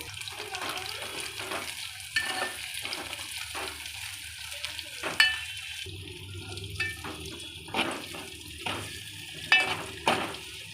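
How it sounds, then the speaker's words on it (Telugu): Chopped onions frying in a pan for mutton gongura, a steady sizzle broken by repeated scraping and stirring knocks, fairly close, with no talk. "ఆనియన్స్ బ్రౌన్ కలర్లోకి వచ్చే వరకు వీటిని ఫ్రై చేయాలి"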